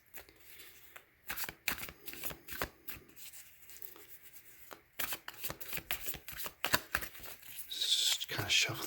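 A deck of tarot cards being shuffled by hand, with repeated riffling and sliding bursts of papery crackle that come in irregular clusters, close and fairly soft, growing busier toward the end.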